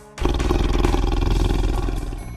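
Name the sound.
tiger growling roar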